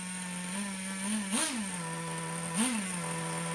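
A T-Maxx Classic nitro RC truck with a 2.5 engine, not fully warmed up, idling steadily in a yard and close by, with two brief revs rising and falling over the buzzing drone.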